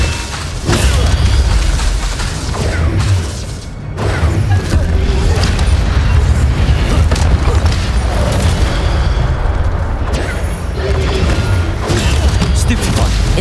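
Incendio fire spell blasts and other spell impacts in the Hogwarts Legacy video game, a dense run of booms and bursts over game noise, with a voice shouting spell names.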